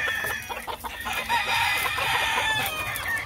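Fighting roosters crow and cluck close by, with several overlapping bright calls layered into a busy, continuous din.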